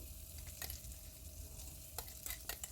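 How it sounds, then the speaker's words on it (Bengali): Ground spice paste with asafoetida frying in hot oil over a low gas flame, a steady close sizzle broken by a few sharp stirring scrapes, with no one speaking. "এই মশলাটা এবার তিরিশ থেকে চল্লিশ সেকেন্ডের মতো একটু ফ্রাই করে নেব"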